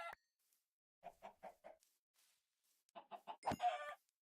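Chickens clucking in Minecraft: short bursts of rapid clucks separated by silence, moderately close, ending with a louder squawking flurry.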